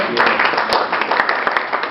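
A Toastmasters club audience claps throughout, a dense, steady patter of many hands at moderate loudness with a few sharper individual claps standing out.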